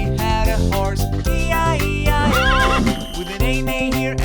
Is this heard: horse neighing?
yes